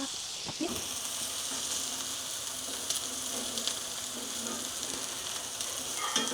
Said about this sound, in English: I'm gonna get the meat in there and we're gonna sear them on both sides for a couple minutes to get a nice char on them